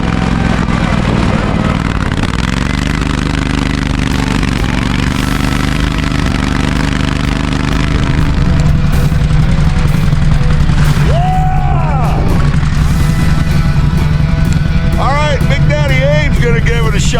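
Argo amphibious ATV engine idling and revving in snow, a loud steady drone that shifts in pitch partway through, with people talking over it.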